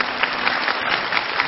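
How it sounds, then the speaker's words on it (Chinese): A studio audience on a television talk show claps, a steady, even wash of applause filling the whole brief moment at moderate loudness. "我们给你掌声鼓励一下我们可爱的爸爸啊"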